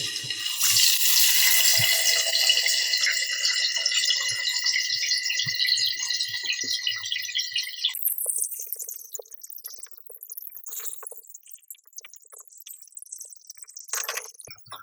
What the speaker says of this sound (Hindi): अब हम फ़िश को अपनी फ्राई होने के लिए रख देते हैं।